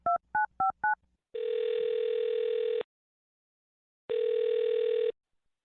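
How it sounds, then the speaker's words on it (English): Four short tone-dialing beeps on a telephone, followed by two long steady ringback tones separated by a gap of silence, clear and close with no talking. "I'm going to dial this phone right now."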